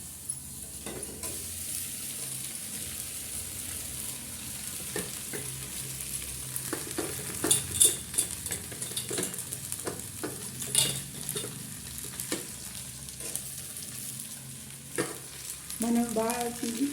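Sago pearls and peanuts sizzle in a hot pan for a Telugu-style sabudana khichdi, with soft continuous frying under repeated scraping and clinking stirs of a spoon against the pan.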